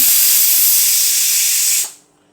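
Tempering spices dropped into hot oil burst into a loud, steady broadband sizzle that holds for about two seconds, then cuts off abruptly into near silence.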